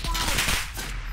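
Rapid automatic gunfire from the Call of Duty video game rattles in a dense, continuous burst, loud and close throughout.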